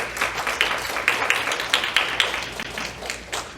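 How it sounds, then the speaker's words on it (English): A small audience claps at a book launch for an Asian American writers coalition, with distinct, uneven individual claps rather than a dense roar, steady and fairly close throughout. "can we get a round of applause for this?"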